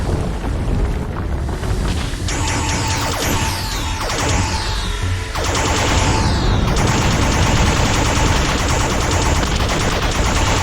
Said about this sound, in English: We can destroy those Dalek energy blasts.